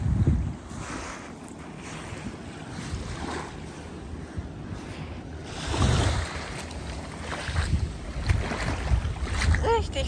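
Sea waves wash onto a beach at night, a soft rolling surge that swells and recedes under steady wind noise, fairly close.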